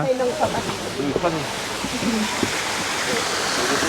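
Water pours at a waterfall beside the clay tunnel, a steady rushing hiss heard under people talking nearby, with the roar continuing on its own once the voices stop.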